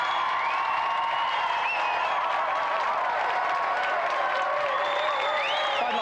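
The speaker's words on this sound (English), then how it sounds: "Round of applause for Peter." A studio audience on the GamesMaster TV game show applauds and cheers, with clapping mixed with whoops and high whistling tones running over it throughout.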